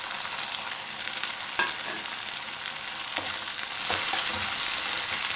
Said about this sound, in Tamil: தக்காளி வந்து நல்லா கரைஞ்சி வதங்கணும், அது வரைக்கும் வதக்குவோம்.